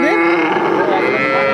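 A six-tooth dairy cow at a cattle market gives one long, loud, drawn-out moo close by, with crowd murmur underneath.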